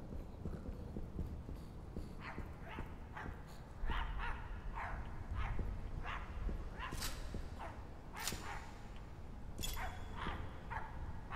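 Dogs in the video game My Friendly Neighborhood barking over and over, a long run of quiet, sharp barks at an irregular pace above a low, busy game background.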